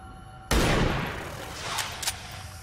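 Gunfire in XCOM 2 aimed at a Viper lands as a sudden loud burst of shots with a booming crack, then trails off into rumbling echo and a couple of fainter hits.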